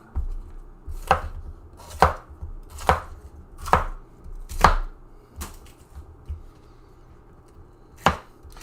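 A knife chops a pepper on a cutting board while pesto is being prepared: about seven sharp, separate strikes, most coming in a steady run of roughly one per second, then a pause before a final chop. Close and clear, with no talking.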